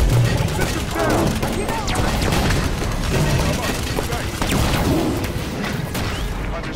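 Sustained automatic weapon fire and booming shots from Halo 5 combat rattle continuously and loudly, with people talking over the chaotic battle noise.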